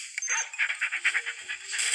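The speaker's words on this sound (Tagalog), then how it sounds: "Oh my god, nandito na aso." Cartoonish dog barking from the Robbery Bob video game, a run of repeated sharp yaps in a steady rhythm over game sound effects, fairly close and moderately loud.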